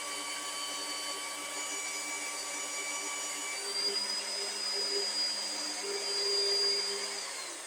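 A Vevor magnetic drill whines steadily while boring through steel mini loader forks, a continuous high-pitched motor drone that shifts in tone as the cutter works, with no one speaking.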